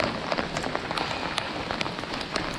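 Pea-sized hail and heavy rain pelt a surface during a thunderstorm on the Pechora river, a dense close patter with sharp irregular ticks of hailstones throughout.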